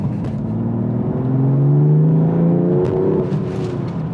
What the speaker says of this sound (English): just to show you like a quick burst of speed, just take a look at what's beside me